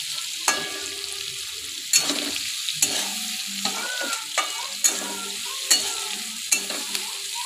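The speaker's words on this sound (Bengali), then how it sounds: "ভেজে নেব" Jackfruit and prawns frying in oil, a close, continuous sizzle punctuated by regular sharp scrapes and taps of a spatula stirring the pan.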